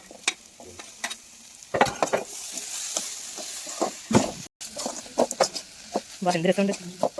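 Chopped tomatoes go into chicken curry frying in a pan over a wood-fired stove, with close stirring scrapes and a soft sizzle through the clip and a brief voice or two in between.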